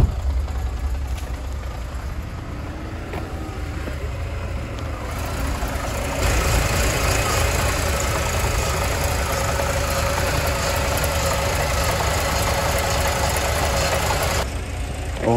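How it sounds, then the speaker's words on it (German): A car engine idles steadily up close, with the loud rattle of its dual-mass flywheel running underneath for the whole stretch and rising slightly in level partway through. "Das Einzige, was man jetzt stark hört, ist das ist ein Massenschwungrad, das ist echt laut"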